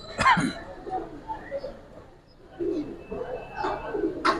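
Soft coos from Giribaz and colouring pigeons sound a few times on a rooftop loft, with people speaking intermittently nearby.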